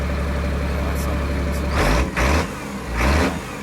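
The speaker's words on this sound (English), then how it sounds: "Revving it up, but I mean, it sounded awesome" A 1979 Ford F600 truck with a swapped Caterpillar 3126 diesel engine idles with a low rumble, then revs up twice in strong surges before settling back, close by.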